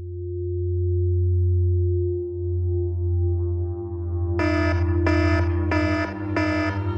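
A low electronic hum gives way to a motion sensor camera's loud repeating alarm, four pulsing bursts of shrill beeping tones in a steady pattern.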